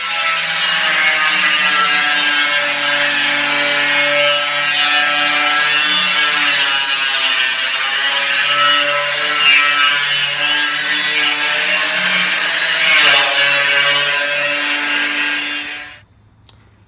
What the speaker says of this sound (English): use my angle grinder and cut the first drum in half